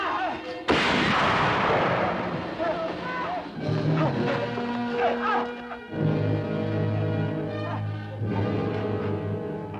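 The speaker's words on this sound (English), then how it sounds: "They're shooting rocks all at us." Gunfire rings out in a western TV show: a loud sharp shot opens, then further blasts and echoing bangs sound among music and voices.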